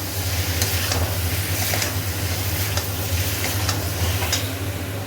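Chicken pieces sizzling loudly in a pan with salt and ginger garlic paste, a dense continuous frying hiss under a low steady hum, with occasional stirring scrapes and clicks; no one speaks.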